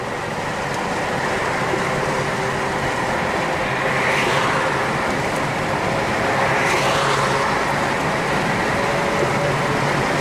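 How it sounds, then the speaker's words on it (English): Steady low growl and road roar from a worn right front wheel bearing on a Chevy Impala while driving, continuous and fairly loud throughout, with no talk. "the right-hand wheel growls, that would usually mean that the right-hand wheel bearings went bad"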